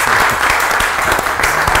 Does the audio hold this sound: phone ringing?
no